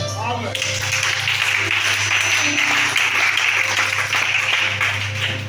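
Congregation applauding during a Sunday church service in Libreville, Gabon, a steady dense clapping that fills the whole stretch at close, loud level, with a low sustained tone running underneath.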